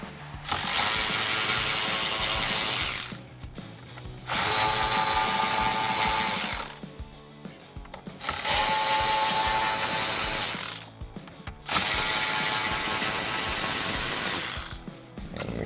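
A ratchet works loose 7mm bolts holding a Ford F150 navigation screen, with four bursts of rapid clicking, each a few seconds long and separated by short pauses, heard close up with no talk.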